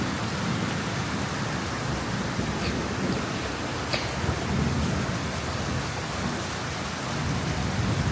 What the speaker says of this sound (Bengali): বৃষ্টি যাদের ভালো লাগে আজকের ভিডিওটা তাদের জন্য। আজকে বেশি কথা বলবো না, শুধু বৃষ্টি উপভোগ করেন।